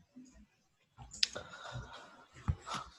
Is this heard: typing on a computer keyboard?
yes